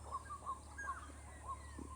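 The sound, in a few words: birds calling in the background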